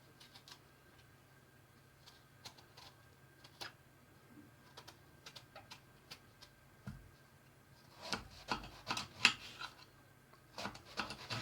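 A knife slices through eggplant on a cutting board, the faint taps scattered at first and then coming in a quicker, denser run of cuts near the end, with no one talking.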